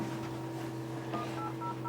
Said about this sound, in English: This phone also dials to Otis Line, which is the service center